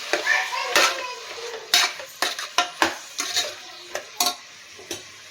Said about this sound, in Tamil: தேவையான அளவுக்கு நம்ம உப்பு சேர்த்துக்கலாம் நல்லா கலந்து விட்டுடலாம்